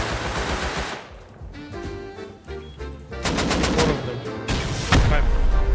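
Automatic gunfire in the survival video game Rust, with repeated loud bursts and rapid shots that build toward the end, mixed with other game sounds and brief voices.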